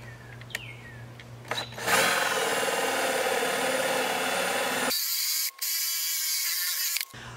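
A power drill with a spade bit bores into 3/4-inch wood, a steady loud whine after a few brief clicks and handling knocks, pausing briefly twice as the bit cuts through.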